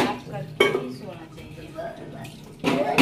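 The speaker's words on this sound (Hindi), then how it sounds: "मम्मी यहाँ पे किचन धो रही है, गैस धो रही है" Running water and clinking utensils from a home kitchen as a gas stove and counter are washed down after cooking, the splashing steady with two louder bursts near the start and end, while a voice talks over it.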